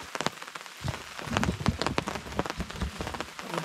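Steady rain patters and splashes on a surface close by at a remote Maine stream, with irregular heavier drops throughout.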